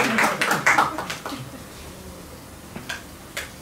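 A few scattered hand claps from a small audience after a song, brief and moderately loud at first, then thinning to isolated claps over a quiet background.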